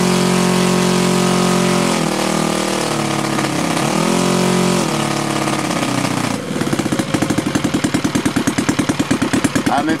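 A ROTO 85 FSI two-cylinder four-stroke gasoline RC airplane engine runs loud and close, first a smooth droning tone that dips and rises, then settling into a rapid, even pulsing idle chug.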